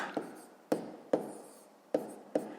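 Chalk or a pen taps and scratches out numbers in a sixth-grade maths exercise, giving five distinct sharp strokes, each trailing off in a short scrape. The sounds are close and alone.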